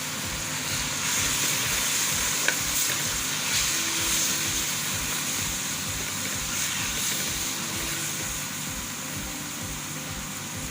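Spices frying in a pan for aloo methi hiss in a steady, broad sizzle, with a single sharp tap partway through, close and continuous, with no talking.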